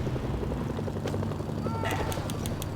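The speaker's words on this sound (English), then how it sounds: "Incoming helicopter." A helicopter in Mercenaries: Playground of Destruction gives a steady, loud rotor thrum over a dense game soundscape, with sharp pulsing beeps near the end.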